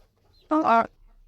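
A desi hill chicken gives one close, loud cluck while feeding on a mixed grain feed of paddy, maize and broken wheat, with quiet between calls.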